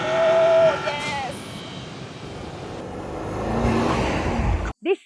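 An Audi SQ8 with a twin-turbo V8 revs loudly and up close, a steady throaty roar that swells toward the end before cutting off abruptly.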